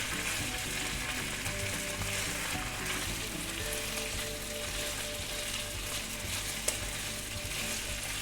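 Pork belly sizzles and crackles steadily in a hot pan as it is stir-fried for a bean sprout dish, a dense continuous frying hiss with occasional scraping stirs, close and loud, no talk.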